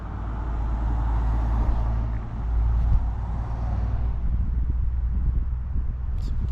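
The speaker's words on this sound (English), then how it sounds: "Road. Cars driving by." Cars pass along a roadway near a rural pump house during a hike, a steady low rumble of traffic swelling as vehicles go by at moderate distance, with no talking.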